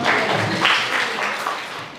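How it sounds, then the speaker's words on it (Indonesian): Classroom applause from a group of vocational school students, a short burst of scattered clapping that fades over two seconds. "Oke, tepuk tangan dong."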